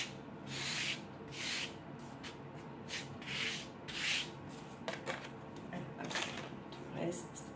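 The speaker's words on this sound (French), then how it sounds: "moi j'ai envie de venir y poncer pour vous montrer un peu ce que ça donne" A wooden Christmas decoration being sanded by hand with repeated rhythmic rasping strokes, close and steady, with lighter scrapes and handling noises toward the end.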